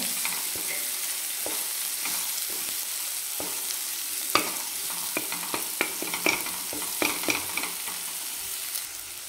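Eggplant and potato curry ingredients fry in a pan while a spoon stirs them, with a steady sizzle broken by repeated scraping clicks and taps; no voices.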